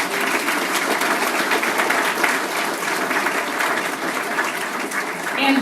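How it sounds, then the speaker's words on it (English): A dinner audience gives a keynote speaker a big round of applause, loud dense clapping that stays even and sustained from start to end with no talk over it. "another thank you and big round of applause for our keynote speaker, Julie Checkoway."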